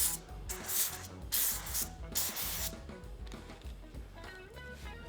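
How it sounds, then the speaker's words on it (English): Several short bursts of avocado oil cooking spray hiss in quick succession onto catfish, close up, over a low background rumble. "So I'm using just a little bit of avocado spray."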